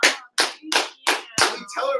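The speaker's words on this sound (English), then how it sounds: "Let's give Shannon Gillette a round of applause." A short round of applause on a podcast episode comes as six separate, evenly spaced claps, loud and close with brief gaps between them.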